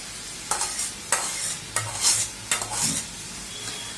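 Dried fish stir-fried into a cooked spice masala with green chilies: steady sizzling broken by repeated loud spatula scrapes at an uneven rhythm, close up, with no talking.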